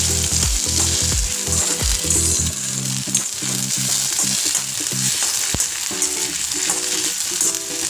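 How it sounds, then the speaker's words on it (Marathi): Okra and egg stir-fry hard in a hot pan, a loud dense continuous sizzle with quick repeated stirring scrapes and clinks, close up and uninterrupted by talk. "फटाफट फटाफट हलवायचं कारण ते सगळ्या भेंडीला लागलं पाहिजे"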